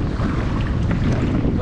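Strong wind buffets the microphone out at sea off Melaka during kayak fishing, a loud continuous roar and rumble with faint water wash beneath and no talking.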